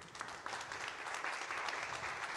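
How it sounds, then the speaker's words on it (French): Continuous applause from an audience, steady and fairly full, without any talking over it. "Veuillez accueillir sous vos applaudissements le révérend Arthur Mosaka."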